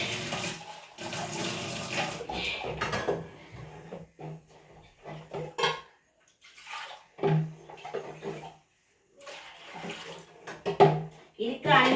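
Water poured into a pot to make black tea, heard in splashing bursts separated by quiet gaps, with faint voices talking in between.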